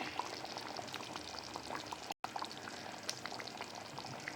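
Pot of small-fish curry bubbling on the stove, a steady close simmer with scattered pops and gurgles and one brief cutout midway.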